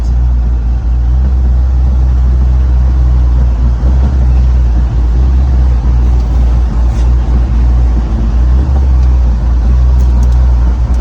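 A 1996 Ford Mustang with a swapped engine on a test drive, heard from inside as a steady, loud, low engine drone and road rumble that holds constant throughout without a break.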